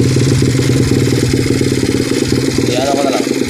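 A motorcycle engine fitted with a racing flywheel runs without a battery, giving a loud, steady, close-up putter with a fast rhythmic pulse that holds throughout.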